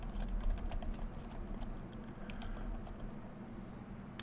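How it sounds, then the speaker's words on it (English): A profile name is typed on a computer keyboard, a quiet, rapid run of soft key taps over a low background hum. "and type in the new name"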